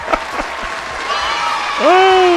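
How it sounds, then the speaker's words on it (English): Applause from a talk-show audience rises over steady crowd noise, with a host's voice talking across it and a sharp tonal sweep near the end. "Let's give her a round of applause."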